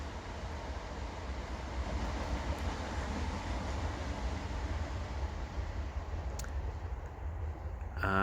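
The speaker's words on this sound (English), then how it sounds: "just wait for this train to go past" A train rumbles past outdoors in south-west London, a loud, steady roar with rail noise that fills the whole stretch and fades slightly at the end, with no talk over it.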